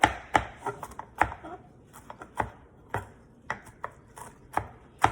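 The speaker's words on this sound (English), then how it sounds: "we're gonna chop 1/4 cup of fresh cilantro" A knife chops fresh cilantro on a cutting board in quick, uneven strokes, each a crisp close thud, repeating steadily throughout.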